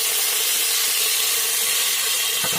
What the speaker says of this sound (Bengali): এখন আমি তেল দিয়ে সবজিগুলো ভেজে নেব।